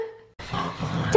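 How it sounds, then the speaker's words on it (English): Small puppies yipping and barking close by in a lively burst, with a higher whimpering yelp near the end, after a faint tone fades out. "So let's go and see some puppies."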